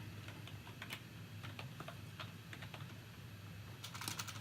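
Keys clatter on a computer keyboard as login details go into a test account, a quick irregular run of sharp clicks at close range over a low steady background hum, with no talk.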